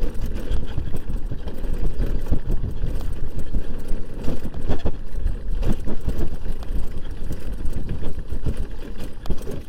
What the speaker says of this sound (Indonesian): Kalau bisa denger itu bunyi shock breakernya bener-bener geradak